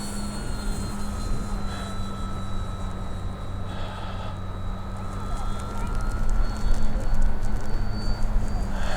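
OMP Hobby Challenger RC airplane on skis flying on low rates in high wind, its steady motor drone humming throughout with a rising whine near the end, while someone talks over it.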